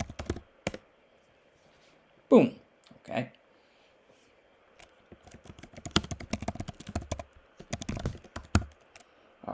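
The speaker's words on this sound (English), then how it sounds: "So I'm going to exit it by typing /exit." Rapid keyboard typing on a computer during a Java programming session, with clustered clicking bursts in the second half, close and fairly loud, after a few short spoken words.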